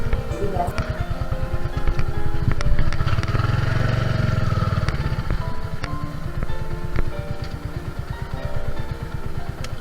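A motorcycle engine idles close by with a steady, rapid putter, revving briefly as it moves, while a voice talks over it.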